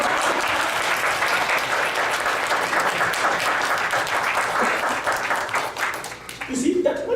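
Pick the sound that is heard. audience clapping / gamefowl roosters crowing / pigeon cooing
audience clapping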